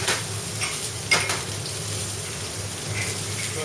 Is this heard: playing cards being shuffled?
no